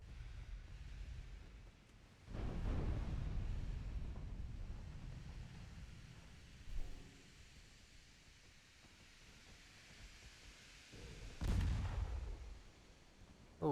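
A torpedo strikes a warship in the naval battle game Ultimate Admiral Dreadnoughts, heard as deep booming rumbles that swell and fade twice over a low, steady background of sea and wind.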